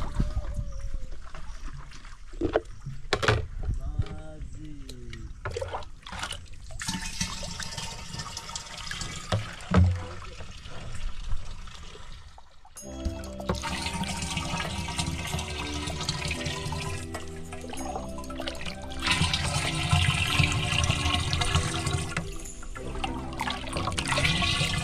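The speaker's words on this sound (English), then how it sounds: "so I'll be filling with this jug." Water pours from a jug into a container, with gurgling, splashing and filling sounds coming in uneven surges over a long stretch, close by and fairly loud.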